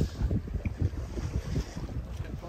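Strong wind of about 18 knots buffets a sailboat at sea off the Turkish coast, loud gusty rumble on the microphone with water and hull sounds underneath and no voices.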